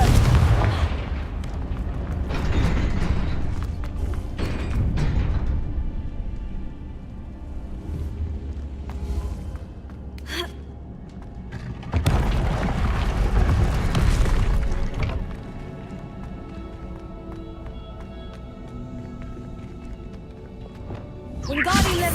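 Explosive Confringo spell bursts in Hogwarts Legacy, several heavy booms and thuds with crackling debris amid game sounds, a voice speaking at times over the action.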